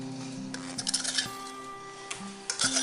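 A few light clinks and chinks of a bottle knocking against kitchen dishes during meatloaf prep, brief scattered taps in a quiet room with a tonal background hum.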